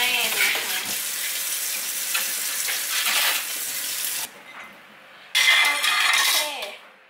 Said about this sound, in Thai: เราก็ล้างจานเสร็จแล้ว